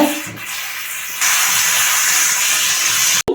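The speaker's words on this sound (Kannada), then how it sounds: "ನೋಡಿ, ನಾವು ಇಟ್ಟಿರುವಂತ ಬೇಳೆ ವಿಸಿಲ್ ಬರ್ತಾ ಇದೆ." A pressure cooker with lentils for dal rasam lets out a loud, steady steam hiss that grows stronger partway through, close by, ending in a brief cutoff.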